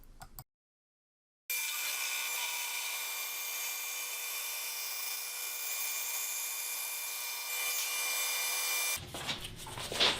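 A saw slices a thin wood inlay strip from a board fixed with glue to a sacrificial fence, a steady loud broadband whine held for about seven seconds after a short silence, then cutting off into quieter shop noise.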